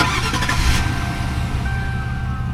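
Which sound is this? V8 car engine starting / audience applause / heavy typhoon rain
V8 car engine starting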